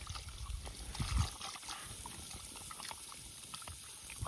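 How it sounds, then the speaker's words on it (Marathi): Goat mutton being washed under running water, a faint close trickle and splash of pouring water with soft handling sounds, no talking. "आता मटण धुवून घ्यायचं"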